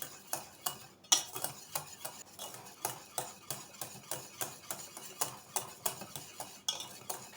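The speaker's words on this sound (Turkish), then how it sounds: "Ve çikolatam eriyene kadar karıştıracağım." A utensil scrapes and taps rhythmically against a pot, stirring pudding while chocolate melts. The strokes are steady and regular, about two per second, close and moderately quiet, with no speech.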